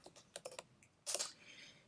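Quick, faint keystrokes on a computer keyboard, a short run of separate taps followed by a louder cluster of clacks, close and quiet with no voices.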